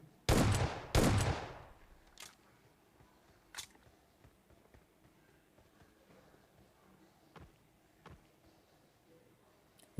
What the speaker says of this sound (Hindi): क्योंकि वो एकेएम चला रहा था, उसका एम बहुत ही खटारा था।